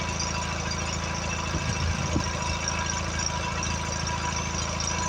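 A Kohler twin 17 engine on a mower idles steadily, a constant low rumbling drone with a rapid even pulse, close and fairly loud, with a brief muffled thump partway through.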